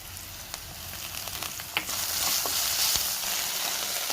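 Ginger garlic paste with garam masala sizzles in a frying pan, a continuous hiss that grows slightly louder partway through, broken by occasional sharp clinks and scrapes of stirring.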